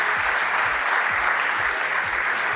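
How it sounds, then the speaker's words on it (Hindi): A crowd at a corporate award night in Surat, India, gives a sustained burst of applause honouring a guest, thick, even clapping with a pulsing low beat running underneath. "जोरदार तालियाँ होंगी सर के लिए।"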